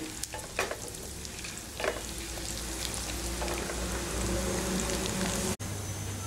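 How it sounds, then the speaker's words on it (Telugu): Oil sizzles and crackles steadily as lentils and tempering spices fry in a pan for a cluster bean curry, with occasional stirring scrapes; continuous and fairly close, no talking. "ఈ పప్పులు కాసింత రంగు మారేటంత వరకు ఇలా వేయించుకోవాలి"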